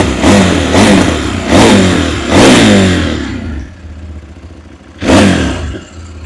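A 2025 CFMoto 800MT-X adventure motorcycle revs repeatedly, with three loud, close throttle blips early on, a quieter idle, then one more sharp rev near the end.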